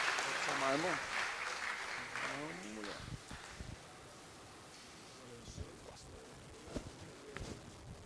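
Applause from a church congregation at a Pentecostal worship service, a broad wash of clapping that fades after a few seconds, with a voice speaking over it near the start and scattered shuffling afterward.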